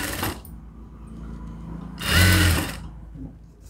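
A sewing machine stitches a folded-back top seam on a garment, running in two short, loud bursts separated by a quiet pause.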